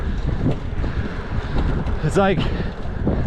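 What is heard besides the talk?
wind blowing while riding a bike uphill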